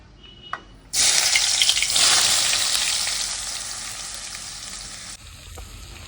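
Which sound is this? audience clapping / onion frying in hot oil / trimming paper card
onion frying in hot oil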